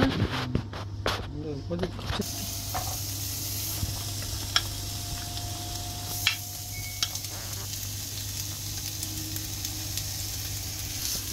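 Onions sautéing in oil in a pan give a steady, close sizzle that runs throughout, over a low constant hum, with scattered small clicks and scrapes from stirring.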